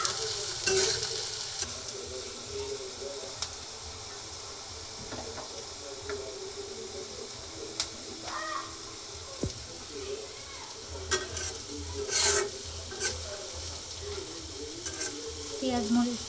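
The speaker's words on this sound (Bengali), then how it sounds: "পেঁয়াজ রসুনটা একটু ভালো করে ভাজতে হবে।" Chopped onion, garlic and green chillies frying in oil in a pan for taki fish bharta give a steady close sizzle and hiss, broken by occasional clinks and scrapes of stirring.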